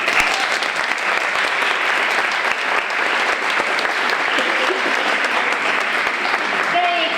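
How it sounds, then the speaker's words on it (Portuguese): An audience at a book launch claps for a doctor, a loud, dense and sustained round of applause that stays even from start to finish. "gostaria de pedir uma salva de palmas ao Dr."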